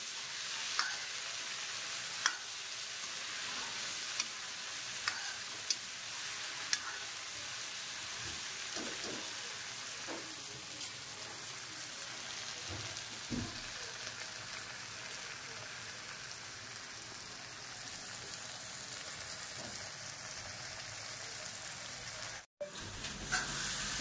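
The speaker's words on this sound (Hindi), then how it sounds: "प्याज और मटर फ्राई हो गए हैं, और थोड़ी सी देर आलू और फ्राई करूँगी" Onions, peas and potatoes frying together in a pan, a steady soft sizzle with occasional stirring clicks and scrapes, fairly quiet and continuous throughout with no talk.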